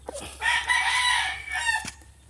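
A single rooster crows once, fairly close and clear, against a quiet background.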